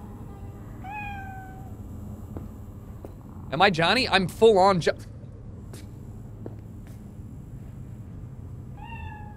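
A cat meows in Cyberpunk 2077: two short high meows, one at the start and one at the end, with a burst of loud game noise in between and someone talking throughout.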